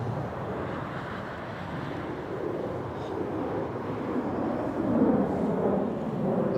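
Airliner landing in a crosswind at Toronto airport, a broad low rumble of jet engines heard from a distance, rising slightly and mixed with wind buffeting the microphone.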